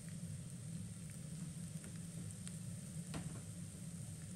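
White sesame seeds fry in a pan with a steady, moderate sizzle and occasional faint pops and crackles, with no voices over it.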